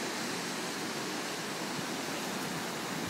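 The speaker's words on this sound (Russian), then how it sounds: "Вот водопад." A waterfall at Old Creek in Ketchikan, Alaska pours in a steady, dense rush of white water that stays even and full throughout, with no voices over it.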